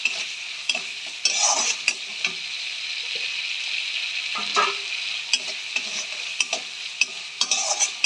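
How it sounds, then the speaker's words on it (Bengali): Spice masala sautéing in oil for a raw banana kofta curry, with steady sizzling from the pan and repeated stirring scrapes every second or so, close and fairly loud, with no voices. "আর একটু মশলাটাকে কষিয়ে নিতে হবে"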